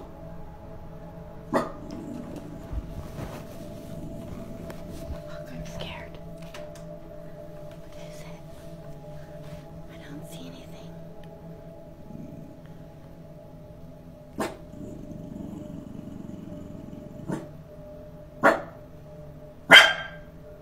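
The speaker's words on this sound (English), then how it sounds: "his dog is barking at the top of the stairs, facing towards the bottom of the stairs" A dog barks at the top of a staircase, aimed down the stairs, in a handful of sharp, separate barks spread across a quiet indoor room, with the last two coming close together and loudest.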